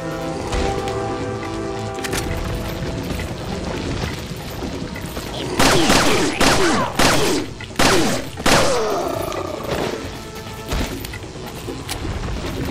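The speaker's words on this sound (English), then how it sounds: "I'm gonna have to start using my Punisher ammo" The Punisher handgun fires repeatedly in Resident Evil 4, a run of sharp, loud shots in quick succession near the middle, with scattered thuds and impacts before and after.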